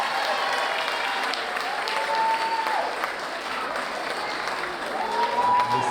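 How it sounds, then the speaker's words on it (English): Graduates at a nursing pinning ceremony applaud their families, a broad steady roar of many hands clapping in a large hall, with tonal whistles or cheers rising faintly above the crowd. "Turn around and give a big round of applause to your families."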